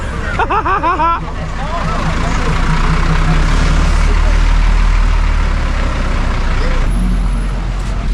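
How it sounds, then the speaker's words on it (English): Busy road traffic on Nusa Penida with trucks and buses idling and rumbling close by, a steady loud hum under crowd chatter, with a brief hiss like an air brake near the start. "Guys, we are in the middle of the road with the traffic."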